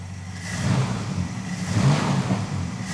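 A restored Dodge Charger engine idles steadily nearby with a low, even rumble and slight swells in level, and no one speaks over it.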